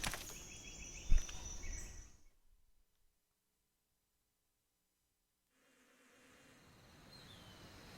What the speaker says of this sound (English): I hear something. Wait, what? Is it bees?